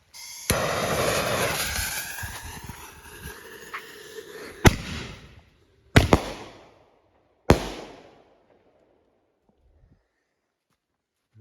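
Consumer fireworks from a mixed assortment going off outdoors, a crackling burst followed by three sharp separate bangs with fading tails and quiet gaps between them, no talking.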